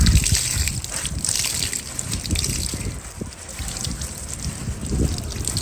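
Water splashes and trickles close by as tie-dyed fabric is washed and rinsed by hand, with continuous sloshing and dribbling throughout.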